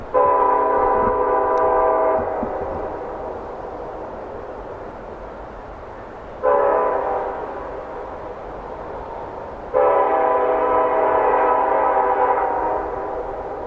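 An eastbound Union Pacific manifest freight train led by EMD SD70 locomotives with a GP40M-2 in tow passes on Donner Pass in winter, sounding its horn in three long, loud blasts, each fading before the next.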